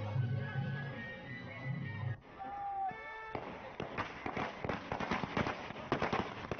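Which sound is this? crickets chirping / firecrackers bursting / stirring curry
firecrackers bursting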